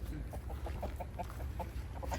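Rooster and chickens clucking nearby in a steady series of short, repeated calls over a constant low background hum, with no talk.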